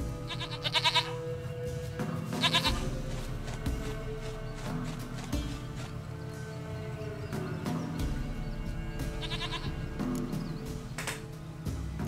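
Repeated goat bleats in The Witcher 3 video game, several quavering cries spaced a few seconds apart over continuous in-game music and ambience, fairly clear and close.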